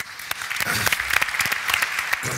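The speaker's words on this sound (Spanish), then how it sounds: "Un fuerte aplauso, por favor." Audience applause at a pavement management congress session: a dense burst of many hands clapping, loud and close, filling the whole moment with only a faint voice underneath.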